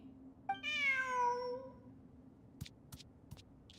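A cat in a video game gives one clear, drawn-out meow up close, followed by a few faint, sharp clicks in a quiet room.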